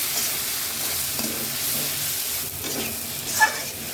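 Beef liver cooking with chili powder sizzles as it is sautéed in a pan. A steady frying hiss runs throughout, with occasional stirring scrapes and a brief sharper clink near the end.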